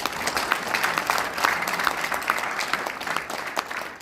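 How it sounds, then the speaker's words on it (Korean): Steady audience applause, many hands clapping at once, sustained and fairly close for the full stretch with no speech over it. "특별히 감사의 박수 한번 부탁드립니다."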